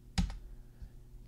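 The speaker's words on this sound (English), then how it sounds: "So I just start typing that." A computer keyboard is typed on while entering an Excel formula, a couple of faint, close key clicks in quick succession followed by quiet.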